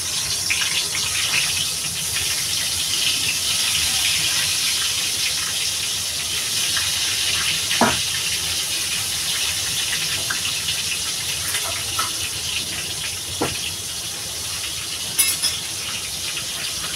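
Eggplant dropped into hot oil for frying, a loud continuous hiss and bubbling sizzle that holds steady throughout, broken by a few sharp crackles and pops.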